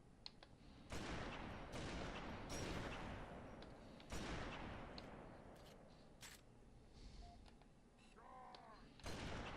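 Gunfire rattles through a firefight in the video game Halo 3: ODST on Xbox 360, with bursts and single shots layered over dense combat noise and talk.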